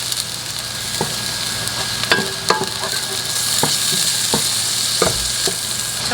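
Butter sizzles in a pan beside cooking sausage, a continuous close frying hiss broken by sharp spattering pops and utensil clicks.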